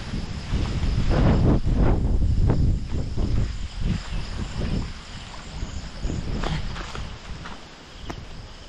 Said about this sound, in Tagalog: talagang meron po talagang hangin